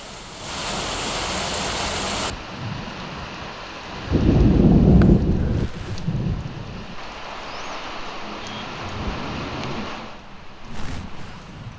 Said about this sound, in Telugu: హైదరాబాద్లో పలు ప్రాంతాల్లో వర్షం కురిసింది.